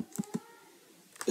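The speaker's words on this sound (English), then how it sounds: "now type this code" Keys tapped on a computer keyboard while entering a Windows command, a few quick soft clicks at the start and again at the end, close and quiet with no voice.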